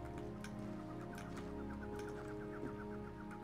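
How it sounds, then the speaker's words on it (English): Baby birds chirping in the Postmouse video game, faint repeated high peeping calls over a steady background music bed, with no talking. "Baby birds that need my help?"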